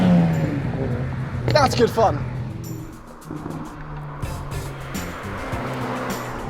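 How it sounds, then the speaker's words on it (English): A 2022 Hyundai Elantra N four-cylinder engine revs, then its exhaust gives off short pops and bangs, close and loud, as someone speaks briefly over it. "quite a difference in exhaust sound, which all it wants to do is pop and bang"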